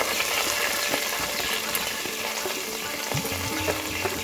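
Sliced onions and garlic hit a hot pan in a Kerala kitchen, giving a steady close sizzle with faint crackle that runs evenly throughout, no voices.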